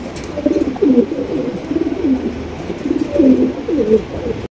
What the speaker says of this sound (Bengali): কিং জোড়াটা কিন্তু মাশাআল্লাহ একদম বিগ সাইজের কবুতর